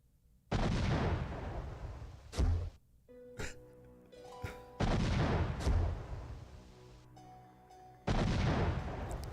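Grenades detonate in the Blade action game, three heavy booming blasts spaced a few seconds apart, each followed by ringing debris and smaller metallic clatter in between.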